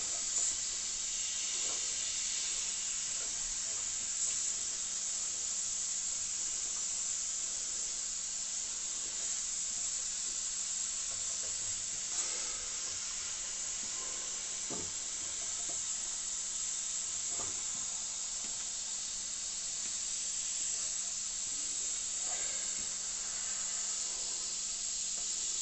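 Compressed air escapes from a small leak in an air compressor, a steady, thin hiss that never stops, with a few faint knocks and clicks now and then.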